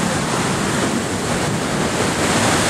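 Ocean surf at Malibu Beach rushes in a dense, steady roar, loud and close, with wind buffeting the microphone throughout and no talking.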